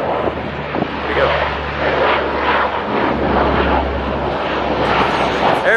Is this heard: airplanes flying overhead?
yes